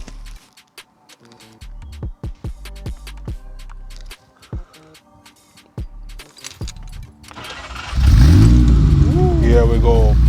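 A 1982 Ferrari 308 GTS being started: a few sharp clicks and key or switch sounds, then the engine catches and settles into a loud, rough idle near the end.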